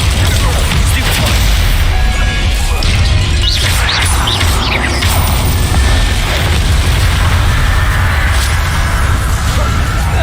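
Stunning spell blasts in the Hogwarts Legacy video game, loud and dense, with bursting impacts and magical whooshes layered over constant heavy combat noise and a faint voice shouting.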